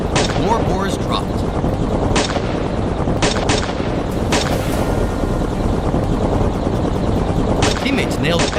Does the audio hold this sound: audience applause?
no